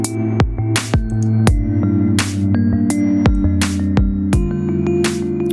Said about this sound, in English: Get some distortion.